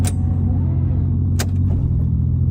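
A Toyota Supra idles at a drag strip with a steady, loud low rumble that holds throughout, and a brief sharp hiss cuts in midway.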